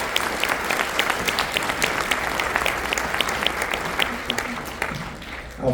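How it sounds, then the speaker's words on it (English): An honor band concert audience claps for graduating seniors, dense sustained applause from a large crowd that thins out toward the end. "So give me another round of applause for the seniors."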